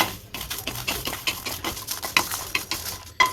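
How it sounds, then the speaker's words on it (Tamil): Kashmiri dried red chillies dry roasted in a kadai, a quick run of light rattling scrapes as they are tossed and stirred, close and rhythmic with about a dozen strokes. "ஒரு அஞ்சு காஷ்மீர் வத்தல் அதையும் சேர்த்து போட்டுக்கிறேன் போட்டு நல்லா இதை வறுத்துக்கலாம்"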